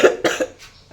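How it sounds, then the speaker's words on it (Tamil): A person coughs in two or three sharp, close bursts followed by a faint trailing breath. "இருமல் வந்துக்கிட்டே இருக்குது, சுத்தமாக முடியல"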